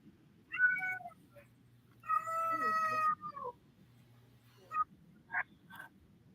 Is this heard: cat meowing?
yes